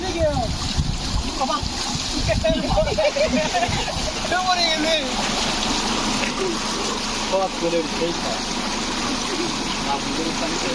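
People dive and splash in deep water together, a constant wash of sloshing and splattering close by, with excited voices calling and chattering over it throughout.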